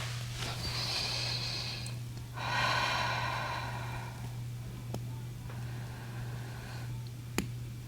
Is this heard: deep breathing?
yes